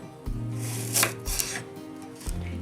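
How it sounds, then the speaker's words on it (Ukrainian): A knife finely chops onion on a board for a fish pie filling, with a few scattered, close taps and cuts over a low steady hum. "Цибулю треба порізати дрібненько"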